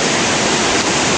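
A creek swollen by steady rain rushes past, flowing at about twice its usual volume, as a loud, steady, close hiss of water with no breaks.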